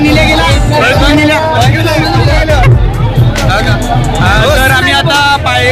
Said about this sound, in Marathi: पाय ठेवायला जागा नाही एवढी गर्दी आहे